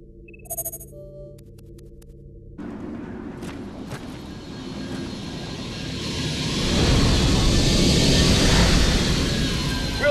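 Super 35 aircraft from the video game Vanquish: a low jet and engine roar that starts abruptly after a brief electronic tone, swelling louder and fuller as it comes in to land.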